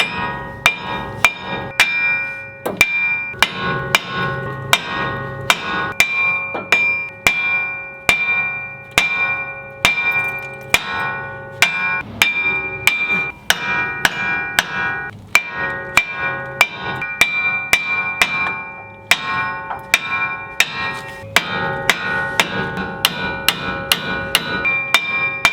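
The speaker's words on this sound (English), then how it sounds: "you just got to literally beat the wheel bearing" A hammer pounds a trailer wheel bearing off, striking over and over in an uneven, fast rhythm, each hit sharp and metallic with a ringing tone, close and loud throughout.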